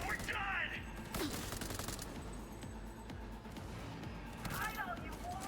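Rapid gunfire crackles in a Cyberpunk 2077 fight, repeated sharp shots in quick bursts over a loud, noisy game mix, with someone talking over the action.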